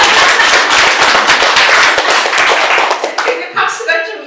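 Loud, dense clapping from an audience at a literary talk, a close burst of many hands that fades out near the end as a voice begins speaking.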